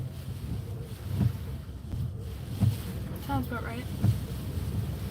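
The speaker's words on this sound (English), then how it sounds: "Definitely still windy through here." Strong gusting wind from a tropical storm buffets the microphone in a broad, steady roar, with brief louder surges, while people talk over it.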